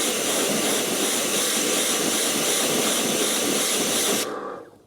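Built Amber cleaner is sprayed onto dirty car paintwork in a continuous loud, close hiss lasting several seconds before cutting off abruptly.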